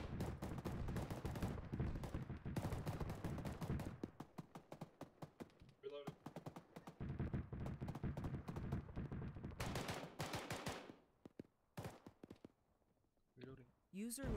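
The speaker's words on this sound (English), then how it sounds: "Let's get back on position and keep firing." Sustained bursts of automatic gunfire in the Arma 3 video game, rapid rattling volleys broken by brief pauses and single clicks, loud and close, with voices speaking over parts of it.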